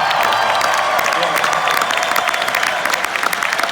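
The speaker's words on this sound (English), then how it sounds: "big round of applause for AKA Clark Griswold," Crowd applause for Chevy Chase as he is introduced at a Q&A event, dense continuous clapping from a large audience, loud and close, with some cheering mixed in.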